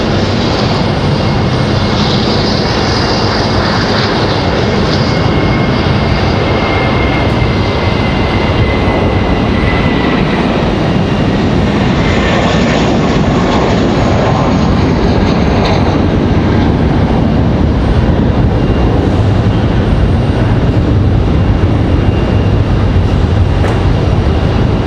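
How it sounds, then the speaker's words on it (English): JetBlue airliner taking off at Raleigh-Durham International Airport, a loud continuous jet engine roar with a high whine, steady throughout with no voices. "JetBlue headed back to San Juan, Puerto Rico"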